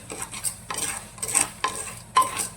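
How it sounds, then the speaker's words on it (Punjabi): A spoon scrapes and clatters as black chickpeas are stirred through hot salt in a pressure cooker: repeated gritty swishes and metallic clinks in an uneven rhythm, close and moderately loud, with no talk. "ਹੁਣ ਆਪਾਂ ਛੋਲਿਆਂ ਨੂੰ ਚੰਗੀ ਤਰ੍ਹਾਂ ਹਿਲਾ ਲਾਂਗੇ ਜੀ"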